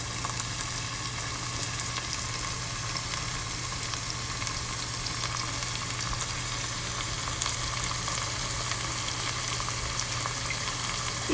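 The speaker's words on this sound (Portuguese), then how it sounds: "Vamos deixar isso tudo refogar um tantinho." Risotto ingredients sauté in a pan with a steady, even hiss of frying and faint stirring underneath. Close, constant and moderately quiet, with no talking.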